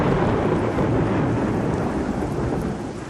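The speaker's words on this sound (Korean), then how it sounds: "천둥이 빗발에 얻어맞은 풍경 위에서 우르릉거렸다." Deep thunder rumbles continuously through a storm with rain, a dense, steady roll that fades slightly toward the end, with no voices.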